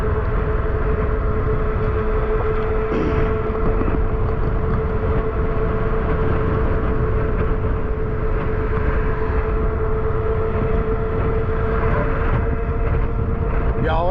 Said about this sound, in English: All that noise you're hearing is the tires.